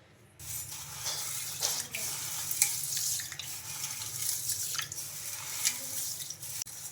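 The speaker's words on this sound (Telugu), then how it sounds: "ఇంకా వీటిని ఒక రెండు సార్లు శుభ్రంగా కడిగేసుకోవాలి" Ragi (finger millet) grains are washed by hand in water, giving a continuous close sloshing and swishing that lasts several seconds.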